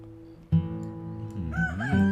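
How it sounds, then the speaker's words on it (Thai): Rooster crowing in the Red Dead Redemption 2 video game, one drawn-out cock-a-doodle-doo rising and bending in pitch, clear and fairly close over a low ambient hum. "ไก่ขัน"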